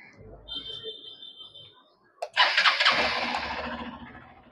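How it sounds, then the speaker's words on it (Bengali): A Hero Xpulse 200 4V Pro motorcycle fires up after a brief starter crank, then its single-cylinder engine settles into a loud, steady idle with a broadband exhaust rumble, following a quieter stretch with a faint high tone. "একবার আমি আপনাদের স্টার্ট করে এর হেডলাইট এবং এক্সস্টের সাউন্ড শুনিয়ে দিচ্ছি।"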